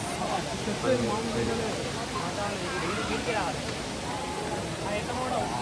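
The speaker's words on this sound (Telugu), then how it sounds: "ఇది ఇక్కడ అనమాట వాటర్ ఫాల్స్." Vibhuti Waterfalls roars as a steady, even wash of rushing water that fills the scene from start to finish without a break.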